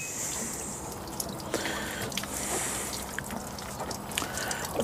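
Water drains out of an RV tank plug during winterizing, trickling and splashing steadily with occasional drips, fairly quiet and close, with no talking.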